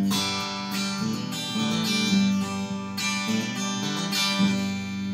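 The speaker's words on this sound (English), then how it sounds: "so the acoustic simulator is on" Line 6 Variax guitar run through a Zoom G3n acoustic simulator with all other effects off, strummed chords ringing loud and alone, with regular strums about every second.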